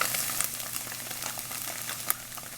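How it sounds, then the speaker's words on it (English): Tofu sizzles in a frying pan, a steady close hiss and crackle with small pops, with no talking. "The tofu is sizzling."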